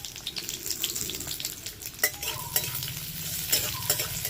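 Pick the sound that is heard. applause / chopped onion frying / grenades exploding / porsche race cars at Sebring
chopped onion frying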